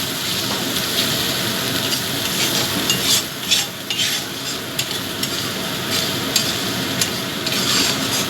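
A spoon working a pumpkin paste mixture around a hot pan, steady scraping and stirring over a soft continuous sizzle, close and moderately loud with no talking.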